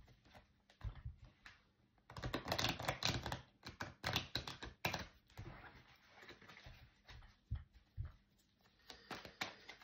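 Oracle cards being shuffled by hand, soft papery riffles and slaps in irregular bursts, close up, with quiet gaps between the bursts.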